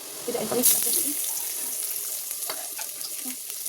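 Lentils sizzle in a pan after salt and turmeric are added: a soft crackling fry with light stirring and scraping, fairly quiet and close.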